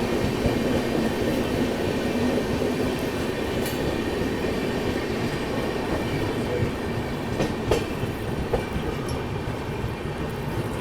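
Aboard the AP Express running on rails toward New Delhi, a constant loud rumble of wheels and carriage fills the space, with occasional clicks and clacks over rail joints.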